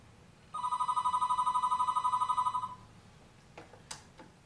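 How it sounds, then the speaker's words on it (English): A home phone rings with an inbound VoIP call from a ported number, a steady electronic trill with rapid pulsing lasting about two seconds, then stops, leaving quiet room tone and a few faint clicks. "you'll notice that the home phone is now ringing"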